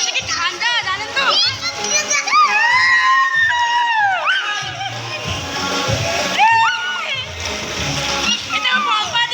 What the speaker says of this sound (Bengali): আমরা এখন সুইমিং পুলে এনজয় করছি, আপনারাও দেখুন কেমন সুইমিং পুলে এনজয় করা যায়।